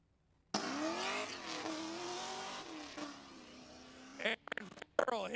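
A drifting Infiniti G35 fitted with a 5.3-liter LS V8 screams past at high revs, its engine pitch rising and falling, followed by choppy bursts of throttle and tire noise near the end.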